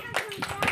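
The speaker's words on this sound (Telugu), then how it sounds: "క్లాప్స్ కొట్టండి" Children clap their hands in a classroom activity, a few quick separate claps heard close by with voices mixed in.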